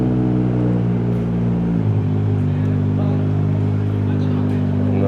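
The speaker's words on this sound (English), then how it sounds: "coming in with the R35 Nismo Top Secret demo car" A Nissan GT-R R35 Nismo Top Secret demo car rolls into a busy Tokyo car meet, its engine a steady low rumble close by, the note dropping midway as it eases in, with crowd noise around.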